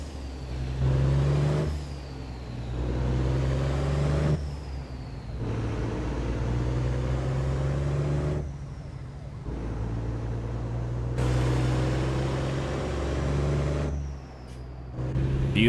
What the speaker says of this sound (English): Let's go ahead and listen to this engine.